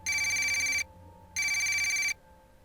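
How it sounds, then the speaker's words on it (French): A telephone bell rings loudly in two long bursts separated by a short pause, close and clear with nothing else heard. "Comme vous entendez, le téléphone sonne."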